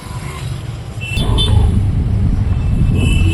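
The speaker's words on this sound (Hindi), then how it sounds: "ये देख सकते हो कि कितना ट्रैफिक है दोनों तरफ, पीछे भी और आगे भी" Heavy road traffic surrounds the listener on both sides, ahead and behind, as a close, loud rumble of engines that swells after the first second, with faint higher tones above it.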